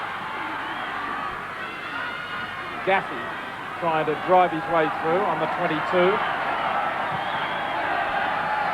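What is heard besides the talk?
rugby league stadium crowd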